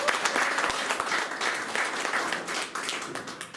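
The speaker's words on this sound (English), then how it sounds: "Let's give him a round of applause." A crowd applauds a speaker at an APEC people's counter-summit, dense continuous clapping close and steady throughout, with no talk over it.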